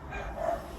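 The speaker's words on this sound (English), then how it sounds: "If you can hear Alfie barking, I do apologise." A single muffled dog bark, somewhat distant and fairly quiet, over a low background hum.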